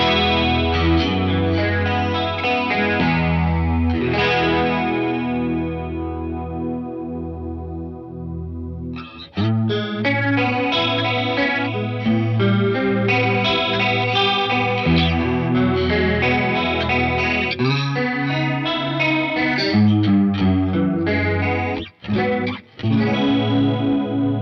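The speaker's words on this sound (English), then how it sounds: "a secret chorus pedal that sounds really lush, versatile as well" Guitar runs through the chorus mode of a BOSS Polyshifter pedal, giving lush, shimmering sustained chords and arpeggiated notes, loud and continuous, with a short gap partway and a couple of brief dropouts near the end.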